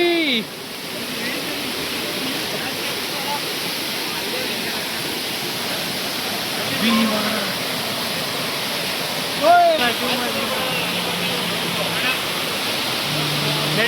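A waterfall on the Kodachadri trek in Karnataka pours in a steady, full rushing roar that fills the whole scene, with a few faint voices briefly rising above it.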